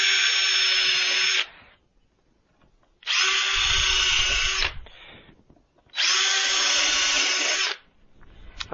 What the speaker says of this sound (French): Alors je perce juste la planche, je perce pas le poteau en dessous.